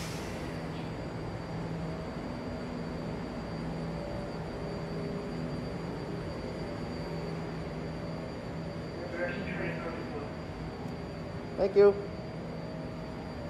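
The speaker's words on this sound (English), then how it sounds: "there you got the Berryessa train leaving" BART Berryessa train on the new Orange Line fleet leaving a station platform, producing a steady, fairly distant rumble that stays even throughout; a voice speaks briefly near the end.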